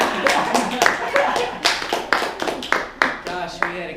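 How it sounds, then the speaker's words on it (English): A small audience at a student Toastmasters speakathon gives a round of applause. It sounds as close, uneven bursts of hand claps that rise and fall in waves, with some voices mixed in. "Let's give a round of applause for"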